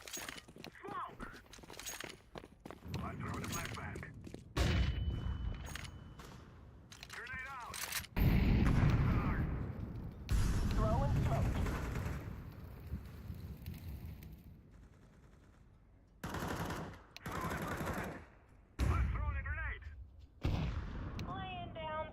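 Counter-Strike 2 match gunfire: scattered bursts of shots and sharp cracks come and go over about twenty seconds, interleaved with stretches of a player talking and quieter gaps.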